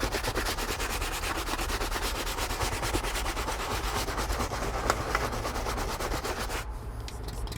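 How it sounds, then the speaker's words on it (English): A Colourlock brush scrubs cleaner into a retired Forest Service truck's interior with fast, steady, rasping strokes. The scrubbing is close and constant for several seconds, then stops abruptly near the end, with no talking. "And let's get the Colourlock brush."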